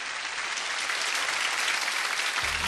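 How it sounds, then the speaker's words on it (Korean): Steady, full applause from an audience welcoming a young agricultural entrepreneur's lecture, an even wash of clapping that continues throughout and thins slightly at the very end. "청년 농업인이자 농업벤처의 CEO 전태병 공동대표의 강연을 큰 박수로 청해 듣도록 하겠습니다."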